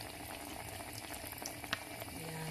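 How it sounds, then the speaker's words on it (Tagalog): Water seasoned with bagoong boils in a pot for Filipino okra paksiw, a steady close bubbling and hiss with a few sharper pops, moderately quiet and with no talking. "pinakuluan natin tubig, may bagoong"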